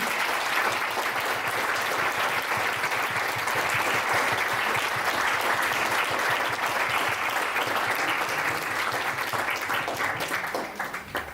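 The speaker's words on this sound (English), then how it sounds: "I would like the public to give a big applause to all the directors, participants and actors and makers of the film." A large audience applauds at an evening film event, honouring the directors and actors with dense, steady clapping that holds strong throughout and thins slightly at the very end.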